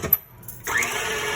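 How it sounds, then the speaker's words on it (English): Eggs, sugar and a pinch of salt are whipped for madeleine batter, and a mixer starts up after a brief clatter and whirs steadily and close. "whisk it up"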